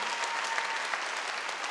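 Members of a church congregation clapping during a Wednesday worship service, a brief, even burst of many hands applauding together at close range.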